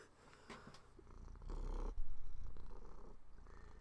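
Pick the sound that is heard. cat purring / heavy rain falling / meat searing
cat purring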